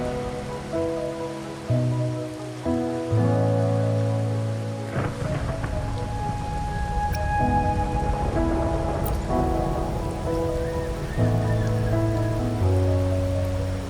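Steady rain patters in the Wuthering Waves game world with occasional low thunder, layered under sustained musical tones throughout.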